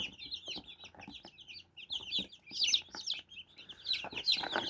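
Many large, heavy black chicks cheep busily and continuously, high-pitched peeps overlapping close by with no pauses and no talking.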